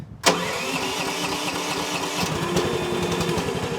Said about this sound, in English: Needs a little bit of choke to start.